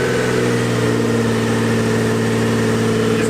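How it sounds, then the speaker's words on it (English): A Nissan 240SX S14 with an RB25DET engine idles steadily after a cold start, a loud, even mechanical drone with constant low rumble and no revving, running alone without voices. "So it's idling pretty damn good."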